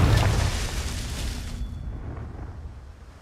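The Confringo spell explodes in the Hogwarts Legacy video game: a single loud, close blast with a deep booming body that rolls and fades out slowly over a few seconds.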